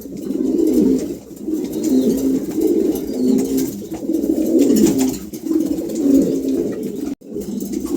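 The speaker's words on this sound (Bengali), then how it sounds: "খুবই চমৎকার এক জোড়া কবুতর আছে" A pair of pigeons coos steadily and close by, with repeated rolling calls in a regular rhythm that continue almost without a break.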